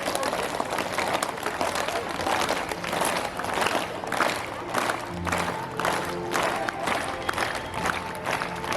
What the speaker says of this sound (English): Then one clap.